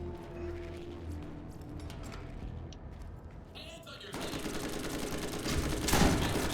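Rapid gunfire in Borderlands, quiet game ambience and a voice giving way to a loud, fast stream of shots that intensifies toward the end.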